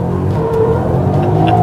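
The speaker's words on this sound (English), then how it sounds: "just gonna do a little clutch pop and give it some throttle and get the car to rotate" A Mustang drift car under throttle after a clutch pop, its engine revving loud and close in a short, rough burst with no talking.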